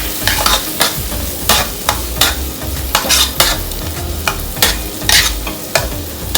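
Fish is stir-fried in a hot pan, with a loud, steady sizzle and a spatula scraping in quick, regular strokes close by.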